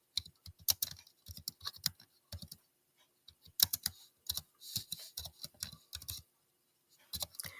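Close typing on a computer keyboard, irregular bursts of crisp key clicks separated by short pauses, fairly quiet, with no one talking.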